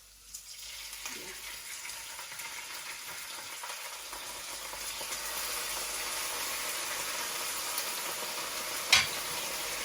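Chicken starts frying in a hot pan, building from quiet into a steady, close sizzling hiss that holds evenly, with one brief sharp clink near the end.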